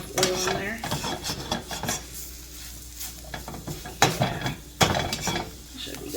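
Flour and oil roux cooking in a pan, with a soft sizzle and metal utensil stirring and scraping, a few sharp clinks against the pan.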